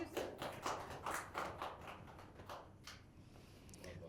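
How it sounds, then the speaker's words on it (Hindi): A small audience at a BPSC toppers podcast event claps for a newly selected officer, a scattered round of hand claps that is loud at first and thins out toward the end. "तालियां बजती रहनी चाहिए।"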